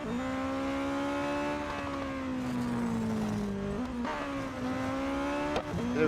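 Race car engine in the mobile racing game Real Racing 3, a loud steady synthetic drone whose pitch slowly falls and then climbs again through gear changes, with no talk over it.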